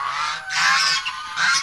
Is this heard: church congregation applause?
no